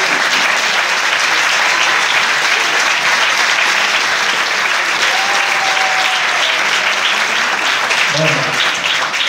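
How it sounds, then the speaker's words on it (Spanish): Loud, dense applause from a conference audience in Barcelona fills the whole stretch at a steady level, with a brief whistle-like tone partway through. "el fuerte aplauso se pide para vosotros"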